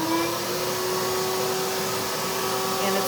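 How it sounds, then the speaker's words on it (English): A vacuum cleaner runs steadily while sucking the air out of a plastic-wrapped cushion, giving a loud, constant whining drone with an even hiss and no breaks. "Then you're going to turn on your vacuum."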